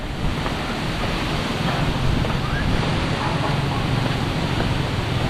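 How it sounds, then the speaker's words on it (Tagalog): Loud, steady wind roars and buffets the microphone with a constant rushing noise, no pauses. "Lakas ng hangin, no?"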